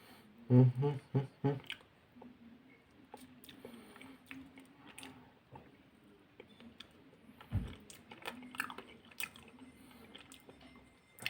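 Someone chews a puff pastry cookie with apricot filling up close, with a few crisp crunchy bites at the start, then softer, quieter squishy chewing and small clicks with no talking.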